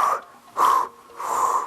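A darted white rhino breathes heavily close by, three loud wheezing, snorting exhalations in a slow rhythm with short pauses between them.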